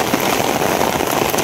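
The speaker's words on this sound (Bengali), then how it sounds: "আবার বাড়তেছে বৃষ্টি" A loud, steady downpour of heavy rain roars without pause, close and broadband, no one speaking over it.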